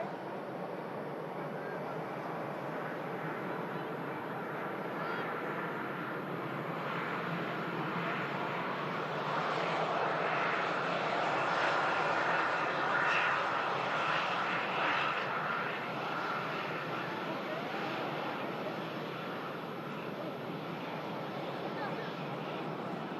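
An Emirates Airbus A380 touches down on runway 05R at Manchester Airport, heard as a broad, steady jet roar from a distance that swells slightly mid-way and then holds level.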